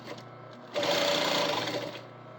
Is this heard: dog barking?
no